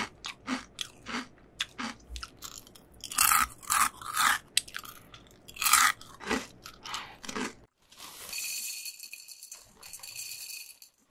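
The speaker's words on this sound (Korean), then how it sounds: "파마첵스 먹어볼게요." Crunchy chewing of green onion flavored Chex cereal, close up with loud rhythmic crisp bites and crunches, then a rattling pour near the end.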